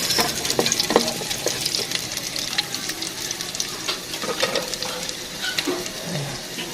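Sardines sautéing with bitter melon leaves in a pan, a steady close sizzle broken by scattered clinks and scrapes of stirring, with no voices.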